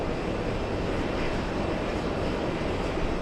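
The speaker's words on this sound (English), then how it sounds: "Air France on joining final right now." Constant broadband roar of an Air France airliner on final approach at JFK, a loud, steady engine rush heard alone without any talk over it.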